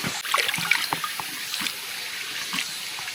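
Stream water splashes and trickles nonstop while someone washes their face outdoors on Gamaksan mountain, with close, bright splashes standing out over a steady flowing background and no voices.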